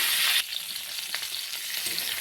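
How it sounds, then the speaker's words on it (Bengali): Cauliflower fries in hot oil, a loud close hiss that drops abruptly after a moment to a softer, steady crackling sizzle with scattered pops, no voices. "এবার আমি ফুলকপিটাকে লাল লাল করে ভেজে নেব।"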